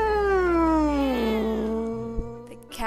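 A cat gives a drawn-out, falling meow-like mutter up close, a single continuous vocal sound that slides downward in pitch and then fades into a low murmur, with no talking.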